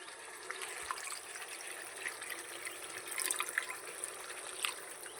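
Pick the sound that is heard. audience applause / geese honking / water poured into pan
water poured into pan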